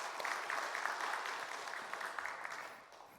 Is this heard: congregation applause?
yes